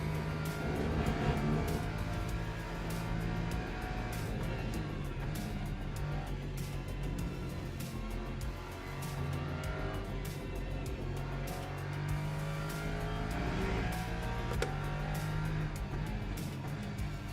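Race car engine in the Le Mans Ultimate sim racing game, a steady, moderately quiet drone that rises and falls slightly with throttle and gear changes throughout.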